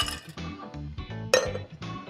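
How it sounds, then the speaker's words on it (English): Ice dropping into a glass for a strawberry planters cocktail made with peanut butter whiskey, a series of bright clinks and clatters in quick bursts, close and crisp, with no talk. "Add some ice"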